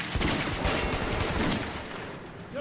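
Gunfire in the video game Metro 2033 Redux, a loud, rapid burst of close shots with heavy low thumps for most of the clip, trailing off near the end.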